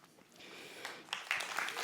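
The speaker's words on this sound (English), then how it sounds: "A warm applause for Katrin." Audience applause at the RiseUp Summit 2024 AI conference as a guest speaker is welcomed on stage; a soft, steady patter of clapping builds slightly over a couple of seconds and sounds fairly distant and quiet.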